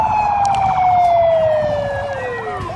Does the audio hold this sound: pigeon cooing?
no